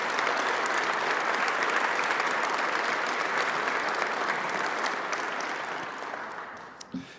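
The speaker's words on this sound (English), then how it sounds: "please join me in one round of applause for all of our police officers today" A full room applauds police officers at a police department swearing-in ceremony, loud and dense clapping that slowly tapers off near the end, with a few last claps.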